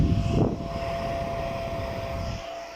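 An electric hot-air heater powered by two large Canadian N-type solar panels runs with a steady broadband whooshing roar from its fan, loud and continuous, with a brief swell near the start and a slight drop at the end.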